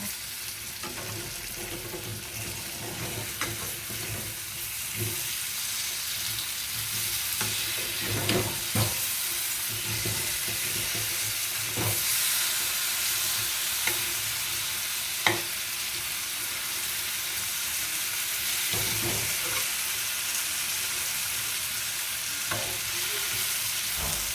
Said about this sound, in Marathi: हे आपण परतून घेऊया. दुसऱ्या बाजूने व्यवस्थित करून घेऊया.